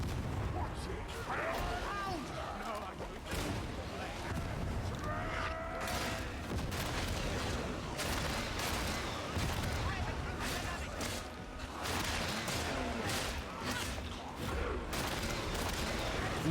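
Video game gunfire, dense bursts of shots and booms rattling continuously through a chaotic firefight, loud and close, with a voice talking over it.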